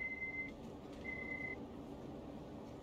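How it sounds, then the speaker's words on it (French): Repeated electronic beeping inside a DB BR 422 electric train in Train Sim World 3, two steady high tones of about half a second each, fairly clear over a constant low cab rumble. "Pourquoi ça fait bip bip?"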